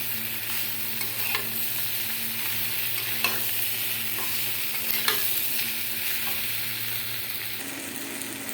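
Prawns sauté in a hot pan with a steady, moderately quiet sizzle, broken by faint scrapes and stirring clicks of the spoon; no one speaks.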